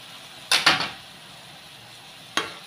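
A spoon scrapes and clacks against a pan while stirring an egg and vegetable mixture seasoned with oyster sauce, soy sauce and pepper flakes, two quick close strokes followed by a lone scrape after a pause.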